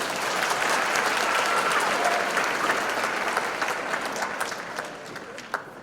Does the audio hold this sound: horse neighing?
no